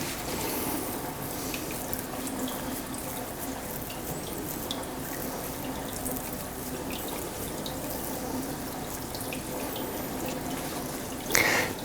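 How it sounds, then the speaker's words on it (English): Hot water runs steadily from a household tap into a sink, a continuous even splashing rush lasting over ten seconds, close and alone, with a brief louder splash at the end. "So I've turned on the hot tap, and it may take a while for the hot water to come through."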